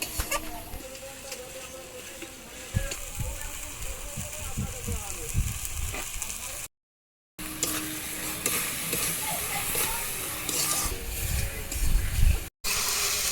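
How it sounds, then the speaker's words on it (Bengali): Onions and garlic paste fry in a pan for chicken bhuna, with a steady close sizzle and repeated scraping stir strokes, broken by two short silent gaps. "পেঁয়াজ লাল হয়ে গেছে এইবার দিয়ে দিচ্ছি রসুন বাটা"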